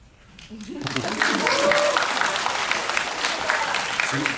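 Audience applause at a film Q&A screening in a Lotte Cinema World Tower auditorium, swelling in after a brief lull and holding steady as dense, continuous clapping from a theater crowd.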